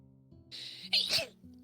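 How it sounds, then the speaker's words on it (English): A single small, quick human sneeze, a soft intake then a sharp burst, nearby and fairly quiet over a faint background hum. "That was the cutest sneeze I've ever heard in my life."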